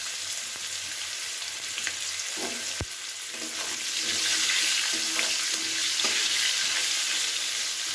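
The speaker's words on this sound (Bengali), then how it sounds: "মূলো আর ডাঁটাটাকে ভেজে নিচ্ছি। এটা একটু হালকা করে ভেজে নিতে হবে।" Radish and drumstick stems frying lightly in oil, a continuous close sizzle with occasional utensil clinks and stirring, swelling slightly louder midway, no voices.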